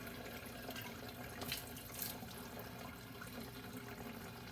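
Water runs steadily from a tap into a wine-making container while sediment is rinsed out, a continuous close splashing and gushing flow that lasts throughout without any voice.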